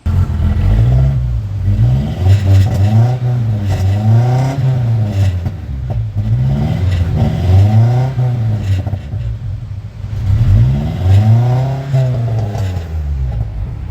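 A Danger Ranger 9000 engine runs and revs in repeated rising-and-falling surges, its exhaust crackling and popping throughout, loud and close with no talking.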